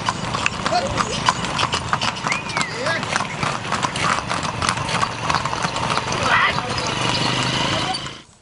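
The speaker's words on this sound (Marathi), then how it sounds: "घोड्यांच्या टापांच्या आवाजाने सह्याद्रीचा परिसर पुन्हा एकदा दुमदुमला" A mounted troop of about twenty-five riders' horses moves through the Sahyadri hills near Shivneri, their hooves clip-clopping in a steady overlapping rhythm under continuous crowd and voice noise.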